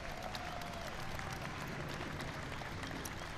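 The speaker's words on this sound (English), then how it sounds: "I've had a round of applause for Marka." An audience at a gathering marking the Americans with Disabilities Act anniversary applauds in a faint, steady wash of many hands clapping, heard from a distance with no pauses.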